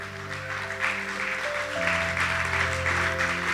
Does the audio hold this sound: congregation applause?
yes